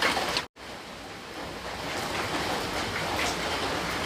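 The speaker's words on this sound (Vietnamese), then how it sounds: "Trời mưa nặng hạt quá" Heavy rain pours in a steady, dense hiss that fills the whole scene without letup after a brief cut near the start.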